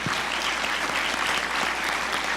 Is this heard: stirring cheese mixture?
no